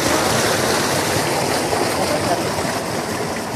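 Fresh water flows down a deep stream where people are swimming, making a steady, close, broadband rushing wash that runs the whole time. A voice speaks briefly over it.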